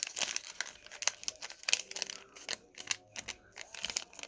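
Paper crinkles and rustles as a sheet is folded into a fortune teller, a string of close, soft crackles and creases at an uneven pace, no talk.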